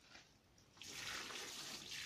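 Warm water pours and splashes steadily onto cucumber plants after a short quiet start, a soft continuous gush like water being poured onto soil.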